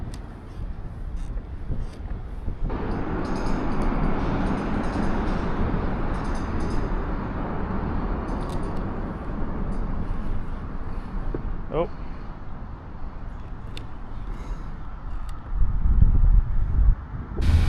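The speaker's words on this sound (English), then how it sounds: "Got a train going by." A steady low rumble and rushing roar of a train passing at a distance on the Missouri River, heard from a kayak, persists under wind buffeting, with a brief exclamation from someone nearby.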